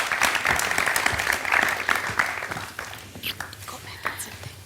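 Studio audience on a talk show about single mothers applauding for Meenakshi, a burst of clapping that thins out and fades toward the end.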